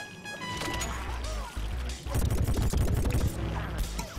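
Crashing, rapid explosive barrage of an air strike in Plants vs. Zombies Garden Warfare 2, starting lighter and swelling into a dense, loud volley of blasts and impacts in the second half.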